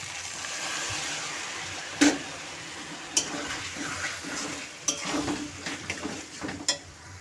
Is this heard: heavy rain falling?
no